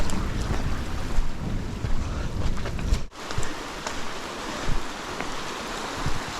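Steady rain and rushing floodwater roar on a hike through a flooded area in rain, a dense constant wash with wind buffeting the microphone and a brief dip midway.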